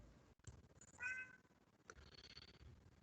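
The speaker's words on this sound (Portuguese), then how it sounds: "Se vocês ouvirem o miado aí, minha gata, que acabou de conseguir abrir a porta do quarto, tá entrando aqui" A pet cat that has just pushed open a bedroom door gives a single short, fairly faint meow indoors, set against quiet room noise and a few soft thumps.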